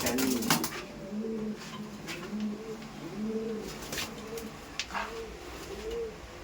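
Giribaz pigeons coo repeatedly in soft, rolling phrases close by, with a few sharp clicks and light background noise between the calls.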